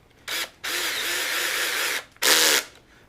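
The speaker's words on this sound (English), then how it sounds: "because I'm using a power tool" A power drill drives metal screws into plastic parts while removing the front section of an X-Maxx RC car, in three loud bursts: a short whir, a long steady run of over a second, then a final burst, with no talk.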